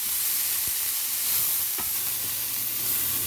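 Cluster bean pieces fry in hot oil tempering, giving a steady loud sizzle throughout with a couple of faint spoon taps from stirring, and no talking.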